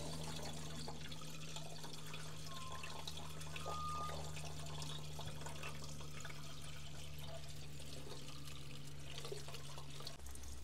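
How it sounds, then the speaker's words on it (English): Water trickling and leaking from a rust hole in an old rubber hose on a tip truck left sitting for over ten years, a steady faint wet hiss over a low constant hum, with no voices. "I can hear water leaking down there somewhere."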